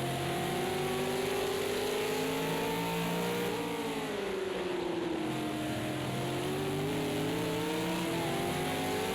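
V8 Supercar engines at full throttle in a sim racing game at the Nurburgring, several cars droning together in a loud, continuous roar whose pitch sweeps down and back up through a corner.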